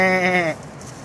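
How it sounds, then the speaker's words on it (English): A small white spotted goat kid on Mary's Farm in North Carolina gives one short, close, clear bleat, followed by quiet background. "mira esa cabrita con la manchita ya blanquita"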